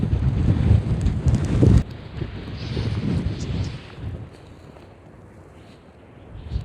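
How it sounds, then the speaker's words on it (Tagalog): Strong wind gusts buffet the microphone over open water, a loud broadband rumble at first that eases to a softer, steady blow, with no talking. "Medyo malakas yung hangin."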